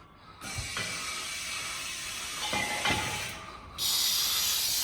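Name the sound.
old jack operated by air compressor, hissing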